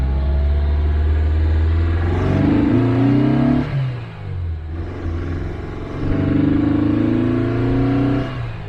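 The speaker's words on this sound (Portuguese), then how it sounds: "A gente notou o motor fazendo isso" Car engine with a misfire at around 3,000 RPM revving up twice under acceleration, the tone rising then stumbling and dropping before climbing again; close, loud and continuous.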